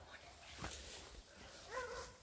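A dog yips and whines faintly in a rural Salvadoran setting, with a few short high cries near the end over quiet outdoor background and a distant voice.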